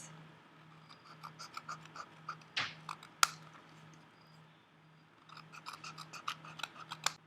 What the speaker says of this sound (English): And then cut the excess.